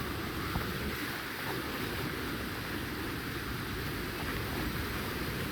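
Water flowing through a forest gives a continuous broadband rush, steady and moderately loud, with no voices.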